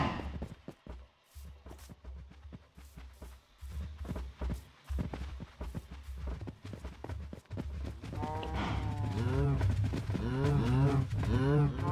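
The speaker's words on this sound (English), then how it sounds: "Come on, cows." Cattle in Minecraft low and moo, with several drawn-out calls clustering toward the end over light footsteps and a faint voice earlier on.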